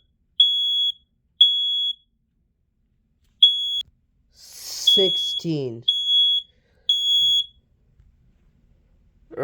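A smoke alarm being tested gives loud, piercing high beeps, first in short separate bursts, then in grouped runs. A voice counts briefly between them.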